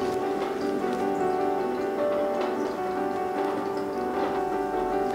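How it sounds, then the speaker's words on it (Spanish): Dechlorinated water dripped from a pipette onto dry soil, giving soft scattered ticks and patters over a steady background hum, with no talking. "Lo que estoy haciendo aquí es simular un poquito de lluvia porque el agua, la tierra estaba muy seca."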